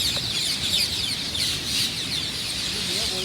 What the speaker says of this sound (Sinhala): ඔයාලට ඇහෙනවද නේද මේ ගස්වල ඉන්න ගිරවුන්ගේ සද්දේ මාර ගිරව් ගොඩක් ඉන්නේ මේ පොල් ගස් ටිකේ නා